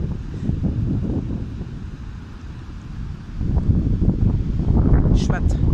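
Steady wind rumbles through the mic with the wash of ocean waves by the coast, swelling louder in the second half; a brief high squeak near the end.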